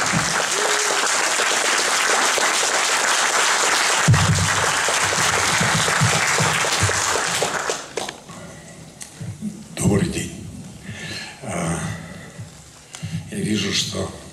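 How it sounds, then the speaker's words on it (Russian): Loud, sustained applause from a large audience at a meet-the-artist evening with Nikita Vysotsky at the House of Arts in Kaliningrad fills the first half, then fades into scattered clapping and murmuring as the crowd settles. "Встречаем под ваши аплодисменты!"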